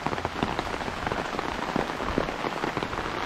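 Heavy rain pouring outdoors in Jamaica, a dense, steady patter of drops striking surfaces close by, continuous and fairly loud with no voices.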